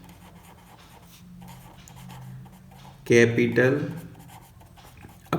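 A pen scratches out an accounting entry on paper, faint strokes first and then a louder, rapid burst of writing near the end, with someone speaking softly over it.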